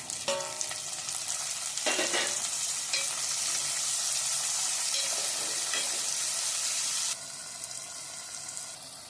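Tomatoes sautéing in hot oil for a Tamil fish curry, giving a bright, steady sizzle. Stirring scrapes break in near the start, then the frying settles into a loud continuous hiss before easing slightly.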